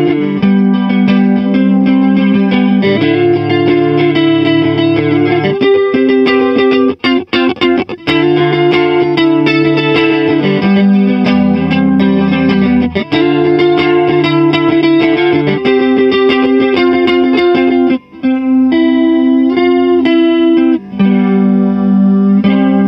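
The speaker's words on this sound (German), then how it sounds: "Mit dem Pictronix Quantum Time Modulator erhält man zwei hochwertige Effekte," Electric guitar played through a Pigtronix Quantum Time Modulator pedal, swirling chorus and modulation over sustained chords and picked notes, loud and continuous with brief gaps, no talking.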